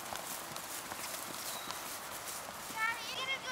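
A dressage horse's hooves clopping at a walk, steady and fairly near, with people talking and children's voices in the background.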